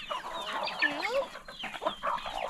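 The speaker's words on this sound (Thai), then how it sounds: "นี่ไก่กำลังกินข้าวโพดอยู่" Chickens on a mixed farm cluck and squawk close by while eating corn, a busy overlapping chatter of several birds with bursts of sharper calls, fairly quiet overall with no talk.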